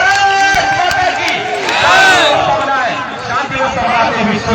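A large crowd at a Republic Day school program on a fairground shouts a loud patriotic chant in unison, with a sustained roar of many voices and whoops.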